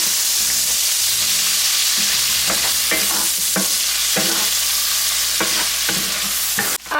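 French cut green beans and browned meat stirred in a skillet, a steady sizzle broken by a series of scraping, clattering spoon strokes up close, with a sharper knock near the end and no talk.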